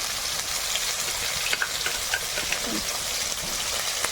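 Chopped onion and bay leaf fry in hot oil with dal in a pan, giving a steady, close sizzle with soft stirring scrapes and a few faint clinks throughout.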